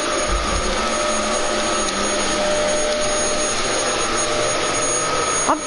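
Vacuum cleaner running nearby, a steady loud whining roar with a high tonal whistle that drones on unbroken throughout.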